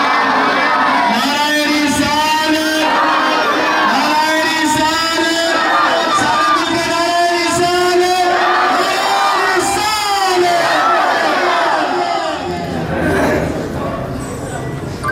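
At a rally, a large crowd chants a slogan together in response to a Takbir call, the loud massed voices rising in repeated waves before fading near the end.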